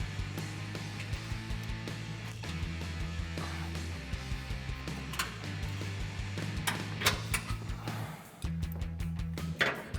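A ratchet with a 13mm socket tightens a hex bolt on an exhaust hanger under a 2011-2014 Ford F150 5.0L. It makes a steady run of close, rapid mechanical clicks with brief pauses between strokes.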